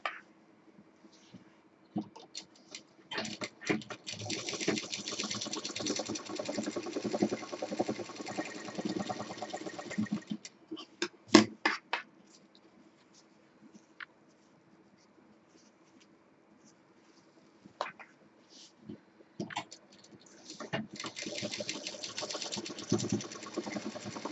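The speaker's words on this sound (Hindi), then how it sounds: "अब ये जो दोनों 4 इंच के एरिया हैं इसको हम बराबर से सिल देंगे।" A sewing machine stitches the seam of a Rajasthani cloth jhola bag in uneven runs. Soft rattling and clicking sit among the stitching, and there is a long quiet stretch in the middle before the machine starts again.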